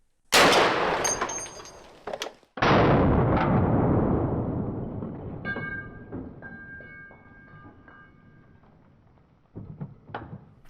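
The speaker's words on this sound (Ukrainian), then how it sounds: "Сербіо BFG 50А. Оптика надто збільшена. Постріл." Serbu BFG-50A rifle firing a .50 caliber SLAP round outdoors on a ranch, one deafening blast echoing into a long rolling decay, then a second loud crack, metallic clinks and faint handling noise.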